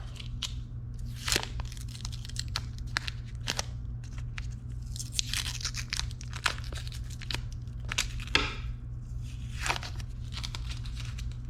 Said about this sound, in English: So, just gonna take that tape off.